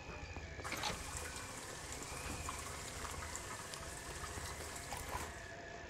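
Water pours into a bucket in the video game Fran Bow, a steady, hissing splash and trickle that runs for several seconds at moderate level with no talking over it.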